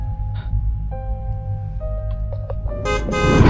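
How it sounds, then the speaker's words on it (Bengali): A car horn sounds repeatedly in a street scene from a Bengali film trailer, sustained blasts over low traffic rumble that swell into louder noise at the end. "এতক্ষণ ধরে গাড়িটা হর্ন দিচ্ছে তো"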